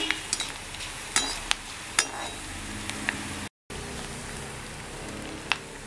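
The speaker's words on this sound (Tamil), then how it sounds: "மல்லி வந்து வறுபட்டுருச்சு, இந்த டைமில் வரமிளகா சேர்த்துடலாம்." Coriander seeds dry-roast in a pan for Onam recipes, making a soft, steady crackle with scattered light clicks and ticks as the seeds shift and toast.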